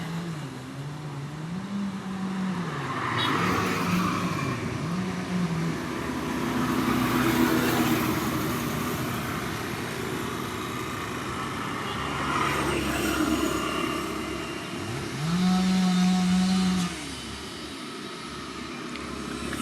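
Heavy truck engine droning steadily while driving in Truck Simulator Ultimate, with a continuous low rumble that rises and falls as the truck changes gear and pitch, loud and close throughout with no talk.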